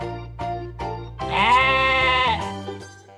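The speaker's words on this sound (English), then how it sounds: "Sheep." A sheep lets out a loud, wavering bleat lasting about a second, preceded by a few short clicks or taps and followed by quieter background noise.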